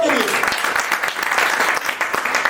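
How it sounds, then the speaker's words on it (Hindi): Audience applause, a steady burst of many hands clapping with a voice briefly heard at the start. "जोरदार ताली सबके लिए।"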